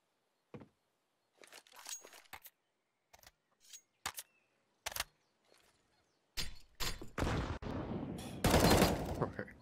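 Grenade and gunfire in a Counter-Strike match on Inferno, scattered sharp shots and clatter early, then a denser burst of blasts and gunfire building toward the end.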